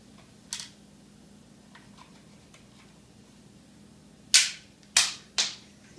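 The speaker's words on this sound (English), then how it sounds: "I'll load a short range one and shoot Lillian with it" A multi-barrel toy pistol being loaded and fired indoors: a faint click, then three sharp snapping shots in quick succession and another at the very end, each crisp and close against a quiet room.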